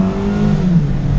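A 2018 Mazda MX-5 RF engine revs hard toward its 6,500 rpm redline, a loud, close, sustained mid-pitched roar with a slowly climbing tone and no talk over it.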